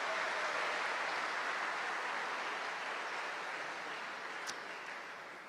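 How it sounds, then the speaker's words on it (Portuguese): A church congregation applauds in a continuous, even wash of clapping that fades slightly toward the end, filling the room without voices on top. "Então dá uma salva de palmas para o Diógenes"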